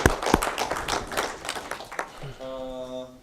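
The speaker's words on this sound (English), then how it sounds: "Give applause for all the presenters." Audience applause for seminar presenters at an international waqf economics seminar: a burst of scattered claps, close and uneven, fading after about two seconds into a sustained tonal hum.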